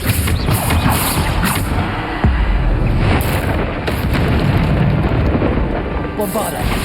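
Spell blasts boom and rumble through Hogwarts Legacy combat, Bombarda explosions among them, forming a dense, continuous loud roar with deep impacts and crashes under game effects.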